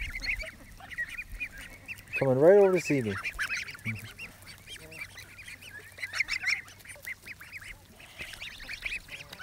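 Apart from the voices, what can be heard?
geese honking nearby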